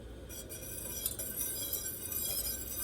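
A whisk gently clinking against a pot while stirring a simmering vanilla milk mixture over a low flame, light metallic taps at an irregular pace over a soft background hum, close and quiet.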